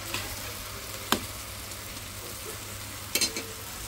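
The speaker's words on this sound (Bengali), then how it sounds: "তো এখানে তেল গরম হয়ে গেছে, মাছটা ভাইজা নেই" Fish fries in hot oil with a continuous hissing sizzle, broken by a couple of brief knocks from a utensil against the pan.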